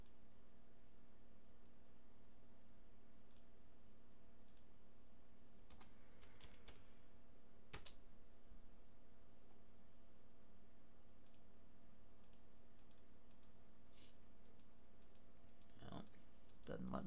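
Keys tapped on a computer keyboard while entering numbers into turbo-matching software, scattered clicks in short bursts with pauses, quiet and close over a steady background hum.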